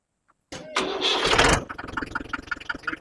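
After a brief silence, an old Mahindra or Massey tractor engine cranks with a loud whine, catches, and settles into a rhythmic, chugging diesel idle.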